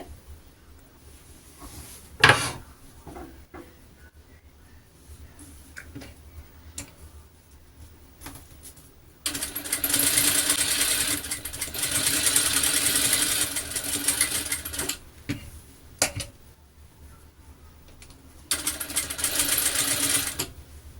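A sewing machine stitches down the neckline of a silk pavada in two loud bursts of steady whirring, separated by quieter handling and a few sharp clicks and taps.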